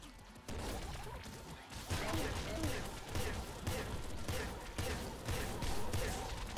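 Rapid gunfire in the Nuclear Throne video game, repeated punchy shots and impacts in quick bursts, with a person talking over the action.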